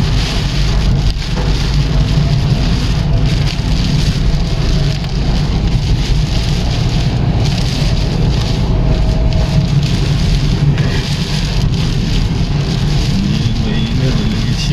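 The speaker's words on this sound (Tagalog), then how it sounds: "Pabugso po ang ulan." Loud, dense rain roars close by, surging in gusts over a low rumble, continuous and intense from start to finish, with flooding nearby.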